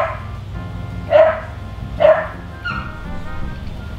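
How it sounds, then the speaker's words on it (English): Dogs bark outdoors, two sharp woofs about a second apart followed by a softer third, over a low steady background hum. "I think so much even the dogs are barking for it."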